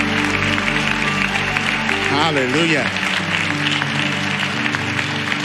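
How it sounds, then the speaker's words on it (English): A church congregation applauds together, a steady wash of clapping under a voice calling out and music-like tones, loud and close throughout. "can we also thank God for the wonderful leadership here at Action Church with a round of applause"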